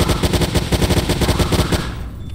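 Rapid, loud SMG bursts from Combine guards in the Garry's Mod game, a fast, even rattle of shots firing continuously for about two seconds before fading.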